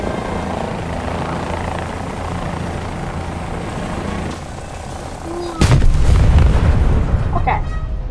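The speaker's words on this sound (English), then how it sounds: "that really is it for this helicopter" A British helicopter in the War Thunder video game, its steady rotor and engine drone running underneath, then a sudden loud blast and rumbling gunfire near the end, with a voice talking over parts of it.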